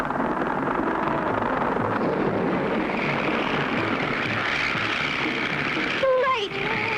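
A cartoon airplane drones steadily overhead with a propeller-like rumble and wind rush, a sudden whistling swoop near the end, as voices speak over the engine noise.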